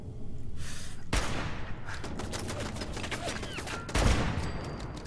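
Rapid bursts of gunfire in Fallout 4 hammer at a turret, with dense volleys and sharp individual shots that swell and fade, and a heavy blast near the end.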